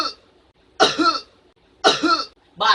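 Exaggerated coughs performed in the style of an advertisement cough, three sharp bursts spaced about a second apart, close and loud with no other sounds.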